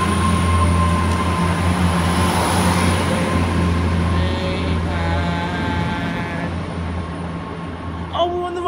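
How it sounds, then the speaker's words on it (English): Electric train pulling past a station platform, a loud, close rumble and hum of rolling cars with a whining motor tone and brief wheel squeals, easing off as it moves away; voices talk faintly over it. "Oh, bye bye train."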